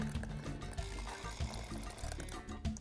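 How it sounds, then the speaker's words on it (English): Blended barbacoa sauce pours into a pot in a soft, uneven stream of gloopy liquid sounds, quiet and close, lasting a few seconds. "I'm just gonna add it directly into the pot. I'm gonna add a layer of the sauce"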